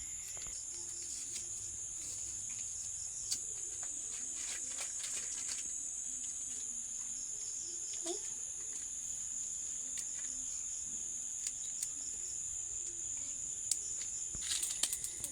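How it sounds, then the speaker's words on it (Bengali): Crickets chirp at dusk outside a home kitchen, a steady high-pitched trill that runs unbroken and fairly faint, with a few soft clicks and knocks now and then. "এই ভর সন্ধ্যাবেলায় ঝিঝি পোকার ডাক"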